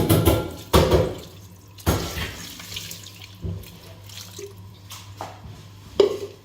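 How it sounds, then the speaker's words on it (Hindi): Half a jug of water is poured into a cooking pot over garlic and spices for Balochi mutton namkeen rosh. Short splashing pours mix with sharp clatters of the pot and utensils, fairly close by. "पानी का डालेंगे।"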